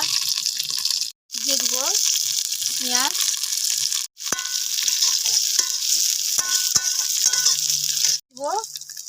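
Dried red chili, green chili, garlic and ginger fry in hot oil, a loud close crackling sizzle that runs almost continuously with brief pauses, while a voice talks over it intermittently.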